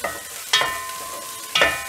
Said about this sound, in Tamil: பூண்டு இஞ்சி நல்லா ஃப்ரை பண்ணிடலாம்.